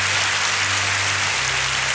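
Congregation applauding at a church service, a dense continuous patter of clapping with low musical tones underneath.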